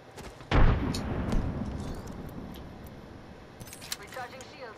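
A frag grenade in Apex Legends detonates with a sharp, heavy blast early on, then a rolling rumble and scattered distant gunfire pops continue behind game sounds.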